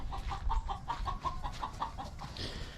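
Chickens cluck in a steady, rhythmic run of short calls from a garden chicken moat, moderately close over soft outdoor background noise.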